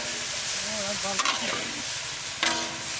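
Winter vegetables hit a pan of hot fried spice paste for a small carp curry, giving a continuous loud sizzle with two sharp bursts of stirring and scraping, while a voice talks quietly underneath.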